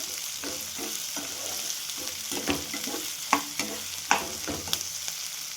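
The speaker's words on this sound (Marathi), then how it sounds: "वाटाणे टाकल्यानंतर अंगावर उडण्याची शक्यता असते, तर छान आहे ना हळूनच भाजून घ्यायचं." Green peas gently roasting in a pan, a steady low sizzle broken by rhythmic spoon scrapes and a few sharper knocks, close and clear with no one speaking.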